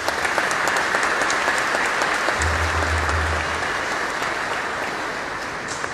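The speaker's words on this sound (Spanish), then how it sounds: "Un aplauso para ellos." Sustained applause from a crowd gathered for members of the GOE police unit during a religious procession visit of the Virgin of El Cisne in Catamayo, steady and dense throughout, with a brief low hum partway through.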